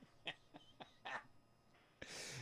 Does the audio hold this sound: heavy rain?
no